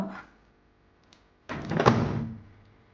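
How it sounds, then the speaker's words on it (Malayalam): A microwave oven door shuts with a single solid thunk after peanuts are placed inside, preceded by a faint rustle and followed by a short fading rattle. "ഇത് നമുക്കൊരു മൈക്രോവേവിലേക്ക് വെച്ച്"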